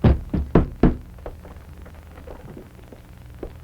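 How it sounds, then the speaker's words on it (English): Four loud, close knocks on a door in a quick, uneven run, followed by quieter faint thuds and room noise. "Well, let's knock."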